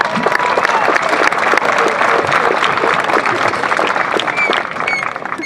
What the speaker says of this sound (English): Let's give those students another big round of applause